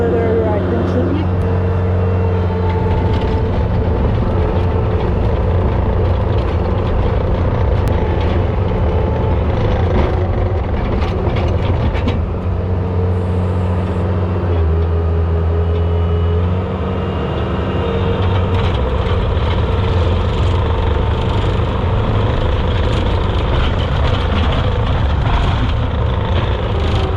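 A Bobcat T190 skid steer engine runs steadily at full throttle for the whole stretch, a loud continuous mechanical drone with a brief dip in the middle, while someone talks over it.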